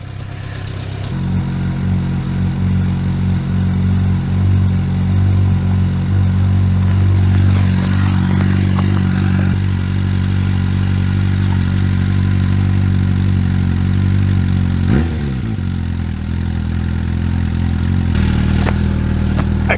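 A cold Suzuki motorcycle engine fires up on choke and settles into a loud, steady, slightly uneven idle close by, with a brief dip and recovery partway through.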